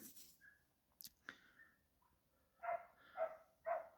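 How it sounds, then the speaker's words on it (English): A dog barks from across a river, three distant yaps evenly spaced near the end, following a few faint scattered sounds in a quiet outdoor setting. "there's a dog barking from the other side of the riverbank."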